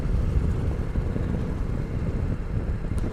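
A 2021 Ducati Multistrada V4S V4 engine rumbles low and steady in sixth gear while riding through town, a dense close drone without obvious breaks.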